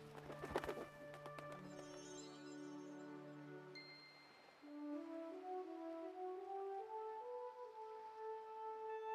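A dove coos in soft, rounded, repeated calls, close but quiet, with tonal layers and a brief bright clatter near the start.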